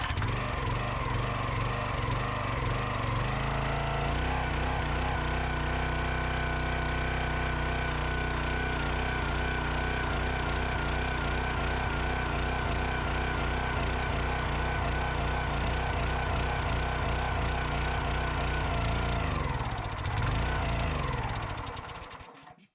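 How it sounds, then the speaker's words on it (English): A gas engine on a Tractor Supply log splitter runs loud and close for about twenty seconds, its throbbing note wavering and surging unevenly before it dies away near the end. "The engine just keeps kind of surging and stalling on me."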